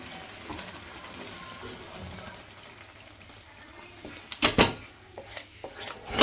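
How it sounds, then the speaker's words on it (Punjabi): Leftover water from boiling chickpeas is poured into a cooking chana mixture, giving a faint, soft sizzle and splash that turns into a few brief, louder bursts near the end. "ਪਾਣੀ ਪਾ ਤਾ ਅਤੇ ਉਹਨੂੰ ਵੀ ਕਰਤਾ ਮਿਕਸ"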